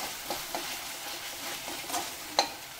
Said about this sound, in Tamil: இது நல்லா வதங்கட்டும்.